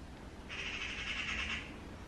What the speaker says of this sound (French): J'espère que vous entendez un petit oiseau qui rit